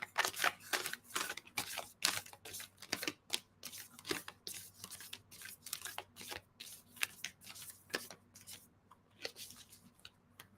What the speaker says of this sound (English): do one more little shuffle